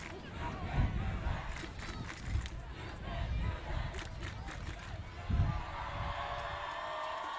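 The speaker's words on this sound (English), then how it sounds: "My favorite cheer from the student section." A high school student section cheers at a Ponderosa versus Bella Vista football game: a dense, roaring crowd with rhythmic swells and shouted bursts, loudest around the first second and again near five seconds.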